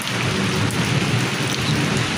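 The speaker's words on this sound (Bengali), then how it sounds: "বজ্রপাত হচ্ছে বেশি এবং বৃষ্টি কম" Thunder rumbles low and steady through a village downpour that has eased to lighter rain, giving a constant close wash of drops over a deep roll, with no speech.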